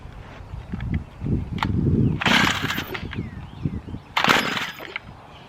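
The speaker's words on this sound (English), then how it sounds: "we're gonna try to pull it over and see if it will do anything" Starter cord on a Stihl FS55 string trimmer yanked twice with the choke on, two loud rasping bursts of the recoil starter and engine turnover, each about a second long, among handling noises and no clear catch.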